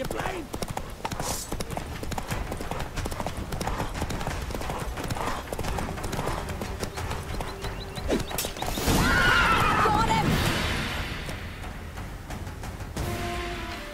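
Roach the horse in The Witcher 3 clip-clops at a trot with repeated hoofbeats under game music, then lets out a loud neigh and whinny near the end, with some speech mixed in.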